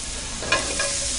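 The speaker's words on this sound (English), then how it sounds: "now we're going to add our octopus" Braised octopus pieces are stirred into a pan of sizzling sauce, a soft steady fry with a couple of brief scraping stirs, close and fairly quiet.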